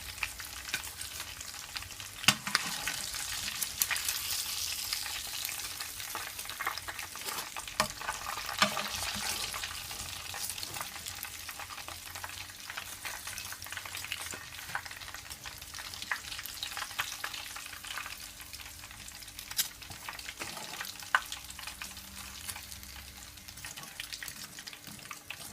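BBQ fried chicken sizzles steadily in hot oil as it is lifted out, a dense, continuous crackle with a few sharper pops and no voices.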